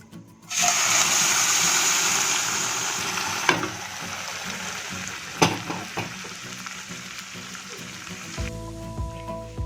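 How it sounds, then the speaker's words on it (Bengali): A loud hiss and splatter as boiled lentils hit a hot karahi, settling into steady sizzling with a couple of sharp knocks, then a ringing tone at the end. "এবার ডালটা দিয়ে দেবো কড়াইয়ে।"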